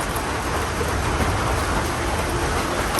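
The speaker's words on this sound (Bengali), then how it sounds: "বৃষ্টি অলরেডি শুরু হয়ে গেছে।" Steady rain falls outside, a dense, even hiss of drops on surfaces that holds at the same level throughout, with no voices.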